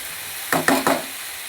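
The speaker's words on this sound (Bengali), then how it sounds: "আলুগুলো দিয়ে এর সাথে একসঙ্গে ভাজা করে নিচ্ছি। মশলা দিয়ে আলু দিয়ে শিম দিয়ে একবারে কষাচ্ছি।" Potatoes, flat beans and spices fry together in a pan, three quick bursts of stirring and sizzle close by over a quiet hiss, no voices.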